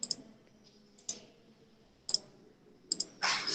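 Computer mouse clicks come close and crisp, several sharp single and double clicks spaced irregularly, ending in a brief rustle of handling noise.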